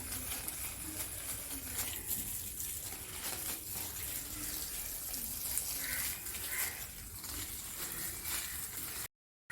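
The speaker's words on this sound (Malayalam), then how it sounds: "ഇങ്ങനെ ഒന്ന് വെള്ളം ഒഴിച്ചു കൊടുക്കാണ്" Water poured by hand onto the base of a young rambutan plant after NPK fertiliser has been applied, a steady, broadband splashing and gushing that runs almost unbroken and fairly close before cutting out near the end.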